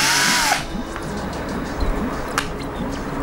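A Cheston 12V cordless drill running, a short loud whirring burst at the start that cuts off, followed by quieter handling noises and clicks.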